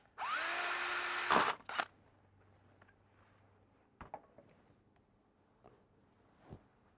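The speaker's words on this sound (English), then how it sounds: "and drill a hole." A power drill whines loudly as it bores a hole in a workpiece for mounting a standby battery unit, one short close burst that cuts off, followed by a few quiet clicks and handling taps.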